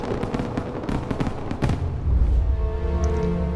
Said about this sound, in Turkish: Alın size havai fişekler